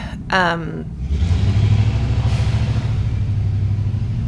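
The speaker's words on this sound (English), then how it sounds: "loud cars." Loud traffic rumbling past outside, a steady low engine drone with a brief vehicle rev near the start, continuing for several seconds.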